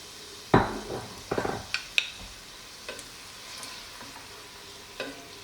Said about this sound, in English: add 1 can of cannellini and toss them around until they start to glisten and they look like they're covered with oil